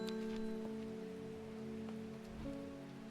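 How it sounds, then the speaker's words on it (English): Steady rainfall in the plant-shop puzzle game Strange Horticulture makes a soft, even hiss, with sustained musical tones held underneath and a few faint drips. "Ever stop raining, Undermere?"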